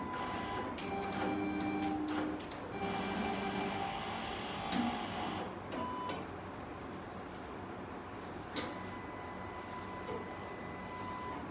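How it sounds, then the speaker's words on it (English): Thermal printer on a Dymind hematology analyzer printing a result slip, giving off soft, rapid ticking and whirring bursts in a quiet room, with faint talk in places. "Once done, the thermal paper result will come out"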